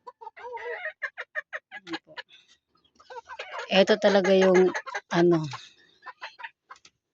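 A young tornado pullet chicken in a cage gives a few loud, close clucking calls midway, surrounded by ongoing speech.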